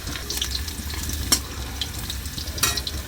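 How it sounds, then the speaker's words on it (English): Garlic and cumin seeds fry in hot oil in a home kitchen pan for a Nepali mushroom dish, giving a steady close crackle with a few sharp pops. "Add the oil, adding half teaspoon cumin seed. Then I'm add the garlic now."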